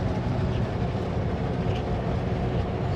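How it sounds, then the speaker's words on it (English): A heavy loaded coal train rumbles steadily past, a deep continuous roar of wheels and cars with no break over the whole stretch. "It looks like a coal train. Loaded coal train."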